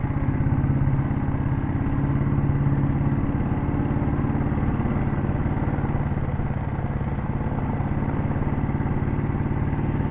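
A Royal Enfield Bullet 350 with a classic CI diesel engine being ridden, giving a steady, even mechanical chugging drone with faint clatter throughout, no voices.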